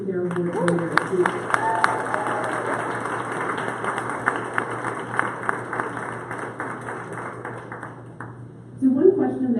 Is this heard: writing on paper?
no